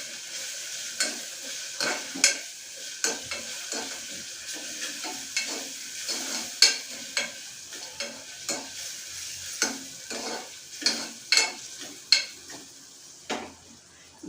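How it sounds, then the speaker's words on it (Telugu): Pea curry ingredients fry until browned in a pan, with a steady sizzle broken by repeated scraping stirs at an irregular rhythm, close and fairly loud throughout. "దీన్ని కూడా మనం బాగా ఎర్రగా వేయించుకోవాలి"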